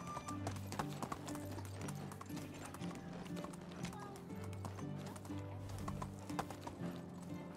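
A horse's hooves clip-clop steadily in the medieval village life game Medieval Dynasty, a quick even rhythm close by with a brief whinny, while a voice talks over it.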